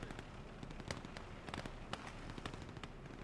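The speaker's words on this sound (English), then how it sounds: "Is that another Bofors cannon? Oh my god." Rapid bursts from a Bofors cannon in the WWII video game Gates of Hell, heard as a dense string of sharp cracks at a distance, faint and continuous over a rumbling battlefield background.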